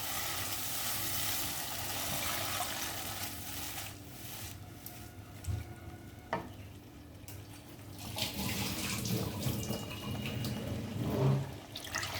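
Water left from rinsing a masala grinding stone is poured into spice paste already fried until the oil separates, for a prawn-poppy-seed dish, making a running splash with sizzling and some clatter underneath.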